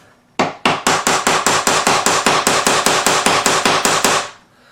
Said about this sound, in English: I'm just going to tap that right quick with the hammer